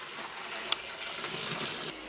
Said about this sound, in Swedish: då häller du vatten här i